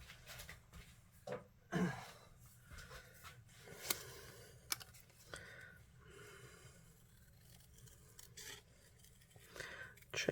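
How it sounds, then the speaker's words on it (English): Soft scissor snips and paper rustling as a shape is fussy cut from paper for a card, a series of small irregular cuts close by, with quiet handling noises between them. "I'm just going to quickly fussy cut this out if I can find my scissors"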